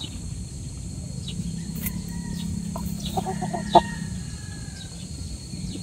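A Raptor Sweater gamefowl rooster on a game farm gives a few soft clucks and short calls over a steady low hum and faint insect chirping, with one sharp knock near the end.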